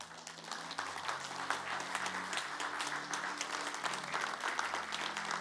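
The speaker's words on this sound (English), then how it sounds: "Are you clapping in Sheffield and Derby?" Audience applause during a church-style talk, a sustained even wash of clapping from a large crowd with faint low tones underneath, holding steady throughout.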